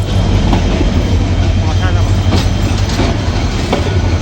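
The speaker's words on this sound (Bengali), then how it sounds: "তো দেখুন কি একদম স্লোভাবে ট্রেনটা যাচ্ছে" A slow-moving train rumbles steadily along the tracks with a continuous loud roar and faint rhythmic clatter, close and unbroken throughout.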